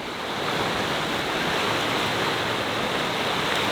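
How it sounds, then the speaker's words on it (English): River water rushes hard beside an RV resort campground, a dense, loud, continuous roar with no letup and no voices. "that water is really rushing hard"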